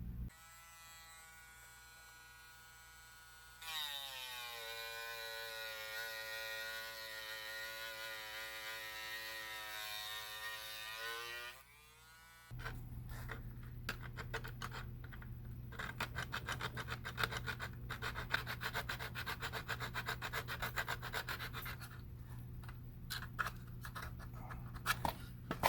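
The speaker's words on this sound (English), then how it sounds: "I'm just gonna trim off the excess here, grind that away" A power grinder on a boat refit grinds away trimmed excess material, a loud steady buzzing whine with shifting pitch for several seconds, then a harsher rough grinding that runs on without talk.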